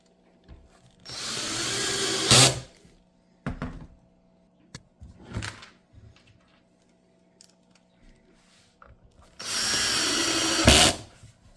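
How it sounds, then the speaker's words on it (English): A power drill drives screws into a Yakattack BlackPack Pro kayak crate in two long, loud whirring runs that end with a tightening bite. Shorter bursts fall between them, with quiet gaps and no talk. "Now we'll just put the screws on."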